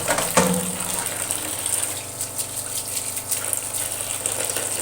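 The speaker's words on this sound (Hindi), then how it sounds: "इनके ऊपर ठंडा पानी आप उसी वक्त डाल दें ताकि ये आपस में चिपक ना सके" Cold water poured from a tap over drained boiled spaghetti in a home kitchen, an initial splash and then a steady rushing stream continuing throughout.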